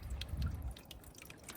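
Groundwater trickles and drips inside a French drain pipe as a rain event ends: a faint, low gurgling flow with a few soft, scattered drips.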